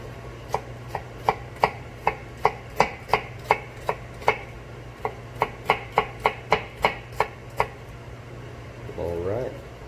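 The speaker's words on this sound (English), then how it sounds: "when cutting an onion is leave the root on and have a sharp knife." An onion chopped with a sharp knife on a board, about twenty crisp, evenly spaced knife strikes, close and distinct over a steady background hum, then a short muffled burst of a voice at the end.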